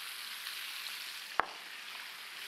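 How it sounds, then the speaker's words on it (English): Shrimp fry in chorizo drippings with a steady, soft sizzle that holds evenly throughout, broken by one brief sharp tick near the middle. "right down in those drippings, we're gonna throw our shrimp in and let him plump up"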